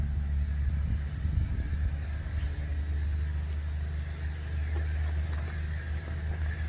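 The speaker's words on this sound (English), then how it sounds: "That truck's going awfully fast. He's got a load on him, you can hear it." A fast-moving loaded truck passes on the road, heard as a loud low rumble and roar that stays steady across the whole stretch with no speech.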